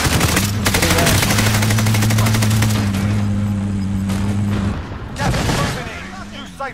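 Rapid automatic gunfire in Call of Duty: Modern Warfare, a loud sustained burst followed by a pause and another shorter volley, with droning game sound beneath.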